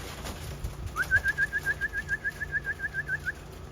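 Pigeons kept in a trap setup give a steady run of about fifteen soft, evenly spaced coos in quick succession, moderately near, with faint background noise and no talk.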